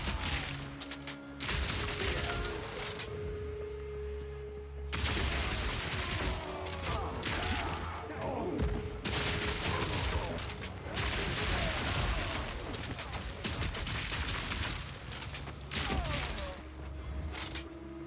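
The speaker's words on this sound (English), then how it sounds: "Machine gun, dude." Machine gun fire in Path of Exile 2, loud rapid bursts of automatic shots crackling in long sustained volleys separated by brief pauses, close and dense with echoing impacts.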